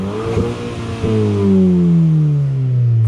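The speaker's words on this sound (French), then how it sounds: "Écoutez-moi juste un petit peu cet échappement" Audi TT 2.0 TFSI modified toward an RS look, its exhaust blipped twice in quick succession, then a longer rev that climbs and slowly falls away, loud and close with a deep, raspy tone and no talk.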